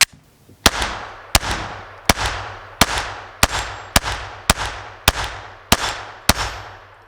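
A Glock 44 pistol firing Remington Golden Bullet .22 ammunition: ten sharp, loud shots spaced about two-thirds of a second apart, each with a short ringing outdoor decay.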